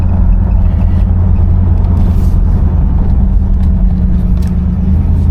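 A 1975 Buick LeSabre with a 350 engine driving on the road, a loud, steady low rumble of engine and tire noise heard from inside the car, with a mild swell as it takes some gas.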